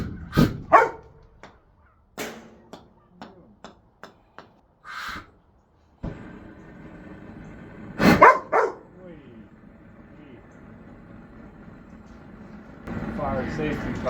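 A puppy barking in sharp, separate yips spread across the stretch, close and fairly loud, with a torch roaring and people talking in between.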